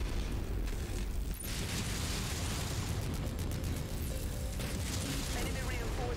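Ammo explosion in the MechWarrior 5 video game, a dense, loud rumbling blast with crackling bursts and mechanical clatter that fill the whole stretch without letup.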